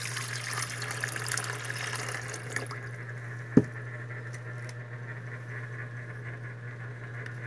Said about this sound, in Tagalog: Tapos itong lalagay ko tong tubig dito.